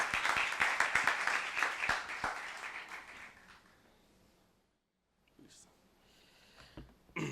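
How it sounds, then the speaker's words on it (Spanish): Audience applause for a speaker joining a panel on open data and city management, a burst of clapping that fades out to near silence, followed by faint rustling and a few soft sounds. "Recibamos con otro fuerte aplauso a Jorge González"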